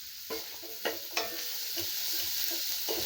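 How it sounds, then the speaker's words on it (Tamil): Onion and garlic fry in a pan on high heat for a pepper chicken dish, with a few spoon scrapes early on and then an even, close hiss of frying. "இப்போ இதில் வெங்காயம் பூண்டெல்லாம் இருக்குது இல்லைங்களா, போட்டுக்கலாங்க."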